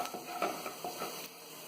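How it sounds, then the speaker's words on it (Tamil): Chopped cashews frying with garlic and ginger in a pan, giving a steady soft sizzle with light stirring scrapes, close and fairly quiet, with no talking. "இப்போ கேஷ்யூ நறுக்குனது சேர்த்து ஃப்ரை பண்ணலாம்."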